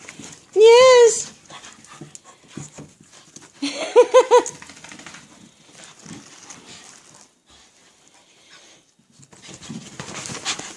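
A pet dog pants and whimpers after a shower, with short bursts of breathy huffs and high whines between stretches of quieter sounds, while a person talks nearby.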